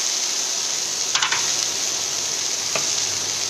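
Whole red chilies roasting in a pan give off a loud, steady hiss and sizzle, broken by two brief stirring scrapes.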